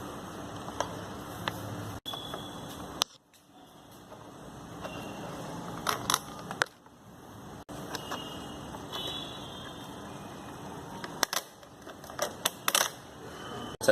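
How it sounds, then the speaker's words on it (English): Small clicks and metallic ticks from an Allen key working out headlight bolts on a Pulsar NS 200 motorcycle, faint and close with scattered taps and brief scrapes over a quiet background. "Now with an 6 mm Allen key, you just need to remove these 4"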